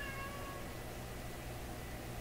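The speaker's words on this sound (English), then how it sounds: "That's a kitty looking to go out." A domestic cat meows near a door, wanting to be let out, a few faint high-pitched cries over steady low room hum, quiet and somewhat distant.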